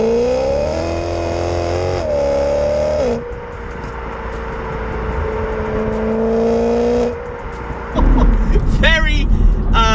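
A BMW E92 M3 in second gear through a roundabout complex, its engine droning steadily with pitch rising and falling as the car accelerates and eases off, close and loud, ending in a harder rev.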